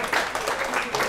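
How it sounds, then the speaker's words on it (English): Short burst of audience applause, dense scattered clapping from a crowd in a pub-style maths talk, steady for about a second. "You should applaud these two for having the right birthdays"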